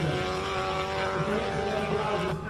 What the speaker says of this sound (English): Claire Vale now in her highly modified Subaru BRZ